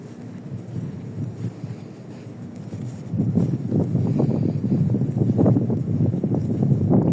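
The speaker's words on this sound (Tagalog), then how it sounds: "Sarap ng hangin, hindi mainit." Wind rushing and buffeting against the microphone, growing louder and rougher after a few seconds, with low rumbling gusts throughout.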